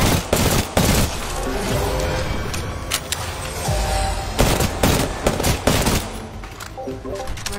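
Rapid gunfire from the Prowler in a video game, with a dense run of shots and sharp bursts spread across the stretch, loud and close with no talk over it.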